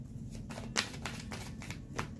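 A deck of tarot cards is shuffled by hand, making soft riffling and tapping sounds with a few sharper snaps. It is quiet and close.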